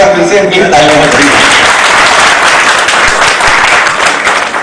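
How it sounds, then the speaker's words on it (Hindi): Audience applause fills an award ceremony honouring local achievers in Gwalior, with dense continuous clapping from a large crowd that stays loud throughout and tapers slightly at the end. "फिर से इनकी तालियां बजाई"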